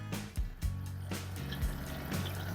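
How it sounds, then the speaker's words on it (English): Water flows into an Electrolux 7kg front-load washing machine after its inlet valve is replaced, a steady close rush with a few sharp clunks and splashes over the running fill. "Now you can see here it is water coming."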